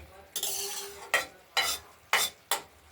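A spoon stirs bottle gourd curry with coriander in a sizzling pot, scraping several times in short uneven strokes over a steady hiss, close and clear.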